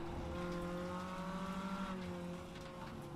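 Mini stock race car engine droning in the iRacing sim, a steady tonal hum that holds near constant pitch, then dips slightly as the car carries through a corner, continuous and fairly loud with no talking.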